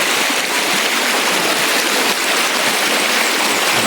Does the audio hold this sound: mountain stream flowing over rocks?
yes